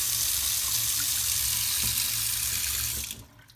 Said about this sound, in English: the kitchen sink water pressure is pretty good too if you turn on both